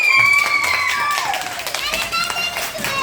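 A small group claps for Leyla, the winner of a sticking game, with a few scattered claps beneath a prominent voice that speaks and sings over them.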